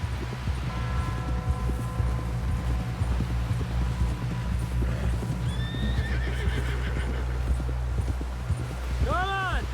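A horse gallops with steady, rapid hoofbeats through the Red Dead Redemption 2 video game world, joined by loud whinnies and a drawn-out neigh near the end, with voices faintly underneath.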